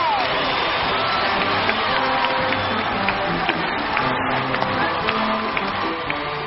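A studio talk show crowd claps and cheers, with a few whoops rising above a thick, sustained wall of applause. A host speaks over the noise.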